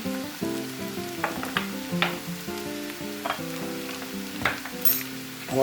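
Potatoes fry and sizzle in a pan with red pepper and other spices, a steady crackle under soft background music, with occasional stirring scrapes.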